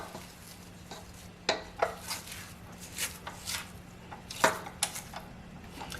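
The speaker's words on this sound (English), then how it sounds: "Stop here and just scrape down the sides one more time." A spatula scrapes around the sides of a mixing bowl of buttermilk pound cake batter, making a string of short, close scraping and knocking strokes in an irregular rhythm over a low background hum.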